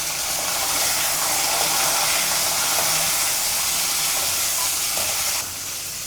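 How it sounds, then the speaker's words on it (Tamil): Chopped capsicum sautés in a hot pan for a broccoli fry, giving a steady, dense sizzle and hiss that holds through the whole stretch and drops slightly in level near the end. "குடமிளகா நல்லா வதங்கட்டும்."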